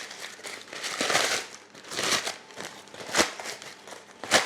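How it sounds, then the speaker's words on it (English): Greaseproof paper scrunched up by hand for blind-baking a quiche Lorraine, loud close crinkling and crackling in several bursts, with no talking. "Then I have some greaseproof paper, which is always best for this to scrunch that up."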